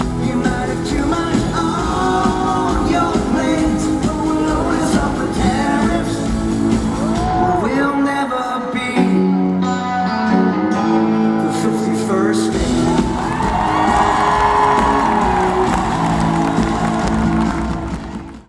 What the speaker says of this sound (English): did you hear the audience go nuts for that?